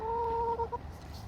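A single hen clucks close by in a backyard garden, one drawn-out tonal call breaking into short clucks and then fading into quiet outdoor background.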